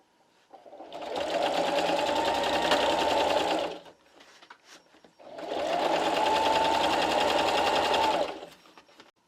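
A sewing machine runs in two steady bursts of several seconds each, joining carpet tile blocks into rows for an area rug, loud and close with a brief quiet pause between runs.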